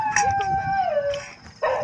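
A dog howls at a night campsite in Tanay, Rizal, one long wavering howl that slides downward and fades, loud and close, with a brief burst of other noise near the end.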